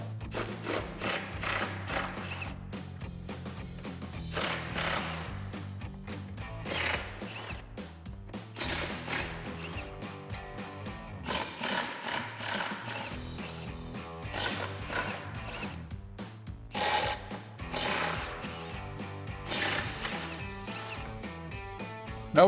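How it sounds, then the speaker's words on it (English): A hand ratchet with a 13mm socket removes exhaust cross member bolts during a Corsa cat-back exhaust install on a Dodge Charger, with repeated rapid clicking runs alternating with brief pauses, close and moderately loud. "Now we'll remove the 2 cross members here and here using our 13mm socket."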